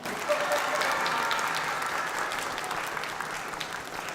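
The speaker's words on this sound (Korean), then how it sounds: "우레와 같은 박수 부탁드립니다." Continuous applause fills the hall at a school book concert marking a fifth-anniversary event, many hands clapping together in a bright, even roar that stays strong throughout and eases slightly toward the close.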